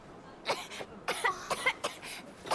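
Coughing from a character in Final Fantasy 16, a series of short, close, raspy coughs in quick bursts with brief pauses between them.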